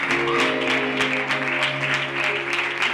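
A church congregation at a celebration service claps together in a dense, steady burst of applause, loud and close, with a faint voice underneath.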